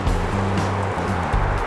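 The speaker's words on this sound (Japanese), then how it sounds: "こういう基礎でザブザブしますよね、波が当たって" Sea waves slosh and splash against a concrete harbor foundation in Osaka Bay, a continuous close wash of water with a low engine-like hum underneath.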